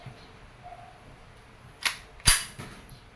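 An Umarex Glock 17 Gen 5 pellet airgun pistol fires with two sharp, close pops spaced about half a second apart, followed by a faint softer click. Light background noise sits in between.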